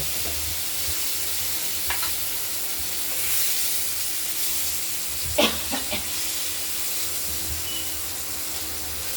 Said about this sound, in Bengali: আলুগুলোকেও এই তেলে ভেজে নেব